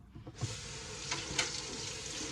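Raw beef rinsed under a running kitchen tap, a steady close splashing hiss of water pouring over meat with a few small knocks, continuous throughout and without talk.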